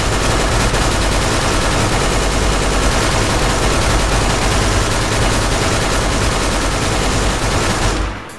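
Gunfire rips through snowmen in a video game, a dense nonstop rattle of loud rapid shots that cuts off abruptly at the end.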